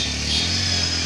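A new motorcycle rides off, its engine a steady, loud mid-pitched drone held for about a second without speech.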